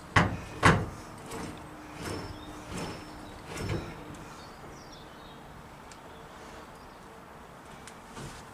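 Homemade bunker-style shed doors are swung shut and latched, giving two sharp nearby thumps followed by several softer knocks and rattles, then quiet outdoor ambience.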